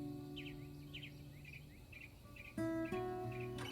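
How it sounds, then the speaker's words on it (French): Birds sing softly in a garden, repeated short chirping phrases spaced a second or so apart over a quiet background, with a louder tonal hum cutting in toward the end. "Les oiseaux chantent en arrière-plan."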